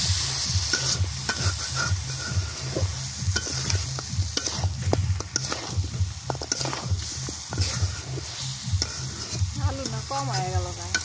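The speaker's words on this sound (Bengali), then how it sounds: "আলু দিয়ে আর একটু কষাই নিলাম আলু করে।" Meat and potatoes being stir-fried in a pan at home, with a loud close sizzle and rhythmic scraping stirs that repeat throughout, ending in a brief bubbling; no voices.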